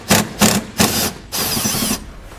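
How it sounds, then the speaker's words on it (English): A 10mm socket on a ratchet loosening a nut from a fuse box post during a trailer brake controller install on a 2013 Chevrolet: three short bursts of ratcheting, then one longer continuous run, close and loud. "We'll then use a 10mm socket to remove"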